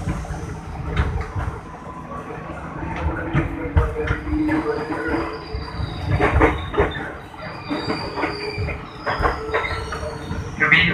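A KRL commuter train pulls away from Pasar Minggu station in Jakarta, heard from inside the carriage. A steady rolling rumble carries rising wheel squeal and faint clatter, with no talk.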